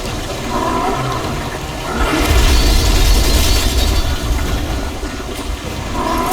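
A slime blower in Ghostbusters Remastered sprays slime in a loud, sustained rushing blast that swells to a heavy roaring peak midway, eases off, then builds again.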